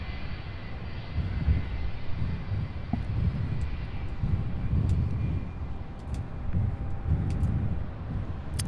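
A Southwest Boeing 737 airliner rumbles steadily at an airport, a low, broad engine roar that swells and fades gently throughout, with no voices.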